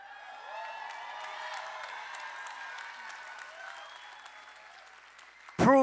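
A large crowd applauds at the Los Angeles City College 2025 commencement, a sustained, fairly distant wash of clapping with scattered cheers lasting several seconds, ending in a sudden loud burst near the microphone.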